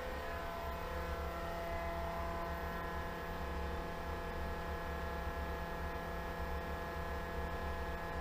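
A pool pump motor runs steadily at rising RPM on a 2-inch pipe setup, producing a constant, tonal electric hum and whir with a layered drone that holds evenly throughout, with no talk.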